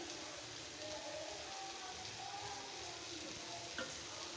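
Rohu fish mashed with telakucha leaves frying in a pan, a faint, even sizzle holding steady throughout with a soft scrape near the end.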